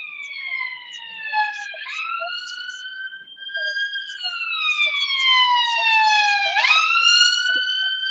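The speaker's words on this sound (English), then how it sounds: "so there's the sound of the ambulance, not the police" A wailing ambulance siren sweeps up and down in pitch, strong and fairly close, with a few faint background knocks.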